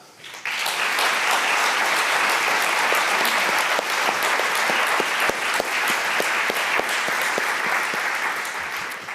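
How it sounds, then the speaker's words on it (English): A large audience at a European Geosciences Union (EGU) award ceremony bursts into sustained, dense applause that starts abruptly and holds steady and loud for about nine seconds, with no voices over it. "please spend a nice applause to the EGU President, Jonathan Bamba."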